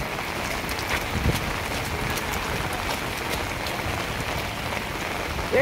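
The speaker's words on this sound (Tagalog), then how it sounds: "dahil umuulan." Steady rain patters on a surface, a continuous close hiss with scattered drops, and no talking.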